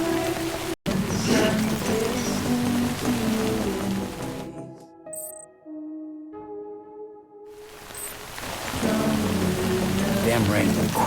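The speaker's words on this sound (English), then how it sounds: "Rain's not letting up." Steady rain pours down in Death Stranding, a dense hiss that drops away briefly mid-clip while tonal music notes ring out, then returns at full strength.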